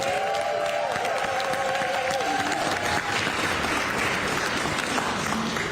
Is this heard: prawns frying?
no